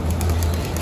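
Racing pigeons at a home loft and aviary coo in a short, soft, low burble, close by and alone.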